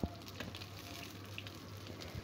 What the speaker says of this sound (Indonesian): Sambil kita masak atau kita goreng ikan tongkol keranjangnya atau ikan pindangnya.